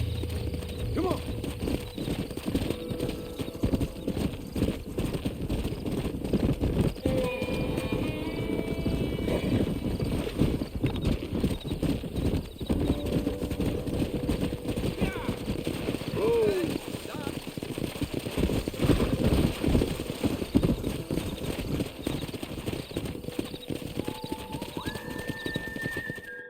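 Horse hooves clip-clop steadily through Red Dead Redemption Remastered ranch work, with an occasional whinny, under a dense, constant game soundscape and scattered voices.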